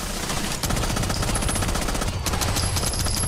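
Automatic gunfire in Rainbow Six Siege X during an esports semifinal, rapid sustained bursts of shots with a brief break, loud and dense throughout.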